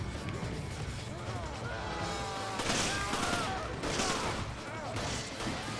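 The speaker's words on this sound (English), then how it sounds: "So he is over there just using a pistol," Gunfire and crashing impacts from the co-op Mercenaries Reunion mode of the video game Resident Evil 5, with pistol shots mixed into a dense, continuous barrage of game effects while players talk over it.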